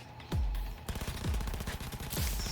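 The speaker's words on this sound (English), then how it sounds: "So we're fighting and there's explosions." Gunfire and explosions in Cyberpunk 2077: several loud, booming blasts punctuate steady rapid automatic fire that rattles on continuously throughout.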